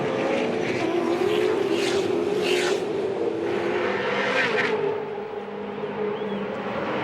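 V8 Supercars race on the Gold Coast track in Queensland, with a loud continuous roar of engines sweeping past and a few sharper surges before the noise eases slightly.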